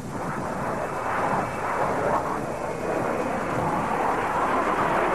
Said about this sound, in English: this Russian Sukhoi performed maneuvers that were